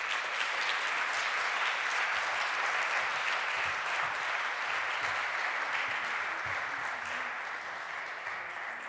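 An audience at a remembrance and action event applauds an award winner coming up to receive an award and certificate, with sustained, even clapping filling the hall throughout.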